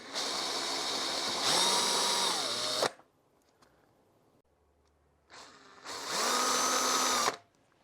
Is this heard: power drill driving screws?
yes